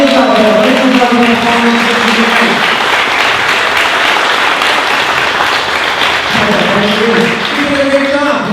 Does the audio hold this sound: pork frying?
no